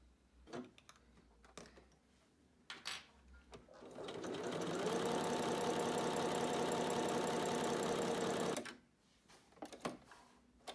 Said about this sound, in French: le point élastique de votre machine à coudre